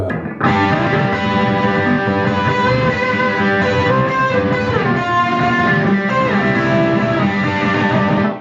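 A loud, heavily distorted electric guitar plays sustained, buzzing chords with rich overtones, ringing out continuously before cutting off at the end.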